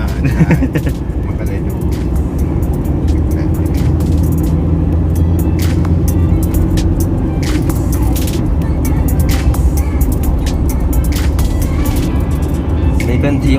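A Ford Ranger T6 Wildtrak 2.2 pickup with a manual gearbox and remapped engine, boost peaking around 30 psi, is being driven. A steady engine and road drone fills the cabin while people talk over it.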